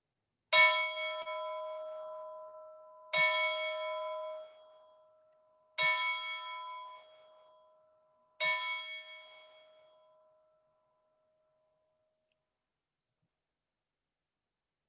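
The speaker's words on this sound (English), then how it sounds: "He is going to ring the college bell for us." A college bell at an outdoor ring ceremony strikes four times at a slow, even pace, each clear metallic clang ringing out and fading before the next, with the last tone decaying into silence.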